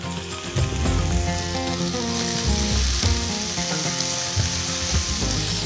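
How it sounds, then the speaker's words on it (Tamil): Finely chopped medium onions with green chillies and fennel sizzle steadily in oil in a pan over a medium flame. A close, continuous frying crackle is broken by the scrape and clack of stirring. "ஸோ வெங்காயம் போட்ட பிறகு ஜஸ்ட் ஒரு 5 மினிட்ஸ் மீடியம் ஃப்ளேமில் நல்லா வதக்கிக்கலாம்."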